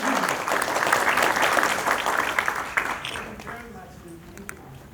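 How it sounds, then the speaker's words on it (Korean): Audience applause for a visiting prime minister at the close of a special talk event, a dense burst of clapping that starts loud and steady, then thins and fades over the last seconds. "총리님께 박수를 좀 부탁드리겠습니다."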